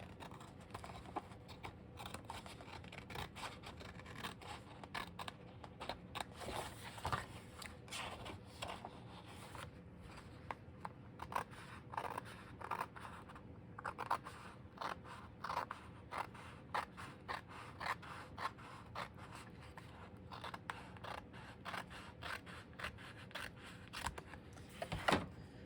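Scissors trim colored cardstock paper for a fractured card layout, giving a steady run of close, quiet snips and paper rustles with no talking.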